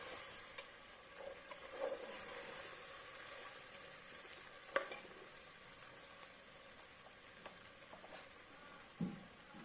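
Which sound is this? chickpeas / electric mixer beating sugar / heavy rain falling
chickpeas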